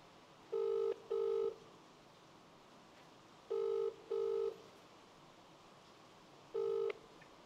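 Telephone ringing on an outgoing call, a clear ringback tone in paired bursts twice, then a single burst, over low background hiss.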